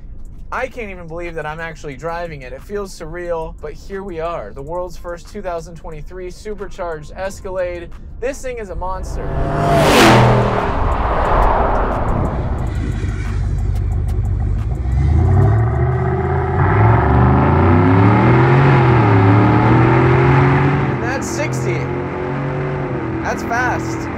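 A supercharged 2023 Cadillac Escalade with a 6.2 liter V8, the Hennessey H650, accelerates hard with a loud, rising engine roar and gear changes that climb again, while people talk over it early on.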